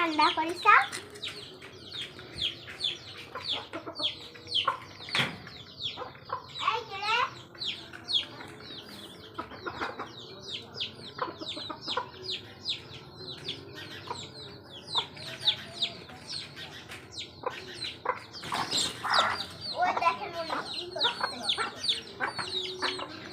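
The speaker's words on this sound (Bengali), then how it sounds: "মুরগিগুলো এরকমই মারামারি করে শুধু" Chickens cluck and squawk in bursts, agitated calls coming close together, with people talking faintly in the background.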